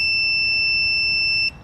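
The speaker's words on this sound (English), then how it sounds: "you guys will hear a beep" A steady high-pitched electronic beep tone, held continuously for over a second before cutting off abruptly, with faint background noise.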